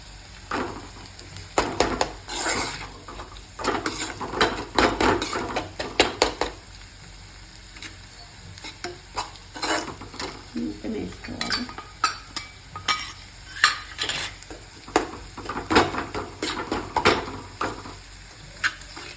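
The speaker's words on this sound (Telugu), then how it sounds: "మనం దంచుకున్న ఉల్లిపాయ ఉంది కదా వేసుకోవాలి మంచిగా కలుపుకోవాలి" Crushed onion is stirred into a spicy egg curry in a frying pan, with repeated scraping and clinking of a spoon against metal over a soft sizzle, in uneven bursts with pauses and no talking.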